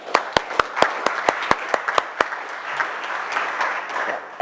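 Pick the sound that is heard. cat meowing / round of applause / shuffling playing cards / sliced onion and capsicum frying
round of applause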